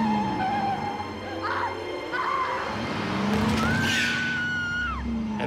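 A car turning hard with tires squealing in a long rising skid, loud and close, engine noise running underneath throughout, with a second shorter squeal and sharp screeches toward the end.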